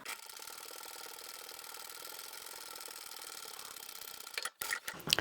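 A sewing machine top stitches a seam in stripy reclaimed fabric, a steady fast mechanical whir and rattle running continuously before stopping with a few clicks and clunks at the end, close and without talking.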